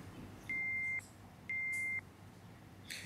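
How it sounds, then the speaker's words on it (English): A tank overflow alarm sounds two steady electronic tones, each about half a second long, one second apart over a low background hum. "We can now hear the alarm."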